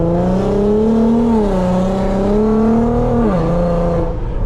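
A 400whp Infiniti Q50 with a loud exhaust pulls hard at night, its engine droning steadily with a rising and dipping pitch and a drop near the end, close and loud throughout.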